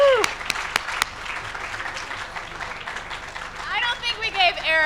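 Applause rises from a crowd at a city tech awards event, clapping under scattered voices, with some louder sharp claps near the start.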